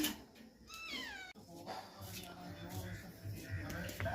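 A cat meows a couple of times with rising, tonal cries, close by, amid household background noise.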